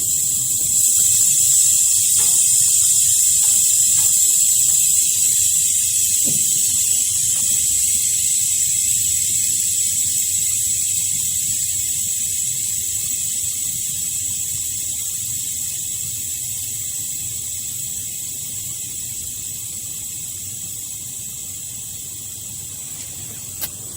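Air escaping through the bleed valve of a combi-boiler radiator that is hot at the bottom and cold at the top: a steady, close, high hiss that slowly weakens over about twenty seconds, with no talking.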